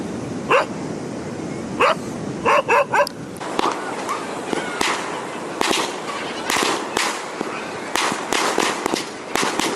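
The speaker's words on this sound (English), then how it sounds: "Yeah, that's only in India. Crazy dogs." Several dogs bark repeatedly on Calangute Beach in Goa, India, sharp close yaps in irregular clusters over steady surf and crowd ambience.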